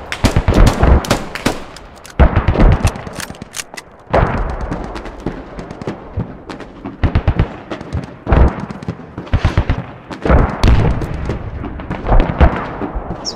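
A Leopard tank fires shots in a video game battle, with loud, close cannon and gun blasts in irregular bursts and clusters, separated by brief quieter gaps.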